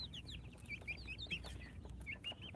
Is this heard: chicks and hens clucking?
yes